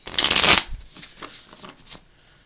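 Tarot cards are shuffled in one quick, close riffle lasting about half a second, followed by quieter soft card handling.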